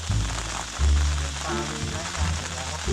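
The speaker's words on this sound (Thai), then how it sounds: "ได้ยินเสียงฝนใช่ไหมฮะ" Heavy rain pours steadily onto a camping tent in Nam Nao National Park, Phetchabun, making a dense, continuous hiss close by with low, faint voices underneath.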